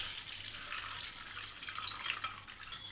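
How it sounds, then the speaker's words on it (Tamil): Tamarind water pours in a soft, continuous splashing stream into a pot of village-style fish curry, fairly quiet and close. "நான் 2 டம்ளர் தண்ணி ஊற்றி நல்லா கரைச்சிருக்கேன். அதை ஊற்றிக்கிறேன்."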